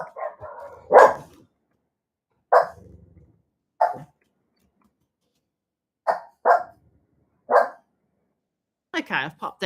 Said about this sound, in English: Dogs are going to bark now.